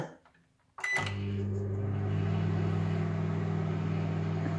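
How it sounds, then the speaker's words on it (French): A microwave oven hums steadily after a click and a short quiet start, heating a bar of soap inside; the motor drone is loud, close and unbroken for several seconds. "Mon micro-ondes est réglé comme ça."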